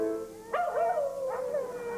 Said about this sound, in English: 220 singing dogs